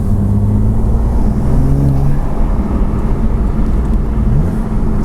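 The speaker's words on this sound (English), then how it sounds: "this does have some sort of overrun burbles like the M4 competition does" BMW M2 Competition engine revving in sport mode with overrun burbles from the exhaust, a steady loud drone of engine note heard from inside the moving car throughout, with no talk.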